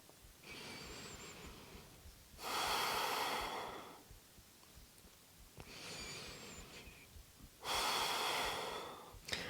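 Slow, deep belly breaths during a power yoga sun salutation flow, each long, airy inhale and exhale rising and fading in turn, close and steady with no talking.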